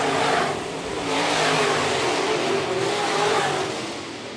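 Modified race cars roar through corners one and two at Phillips County Raceway, a loud, continuous, dense engine rumble that swells and fades slightly as the pack passes close by, with no talk over it.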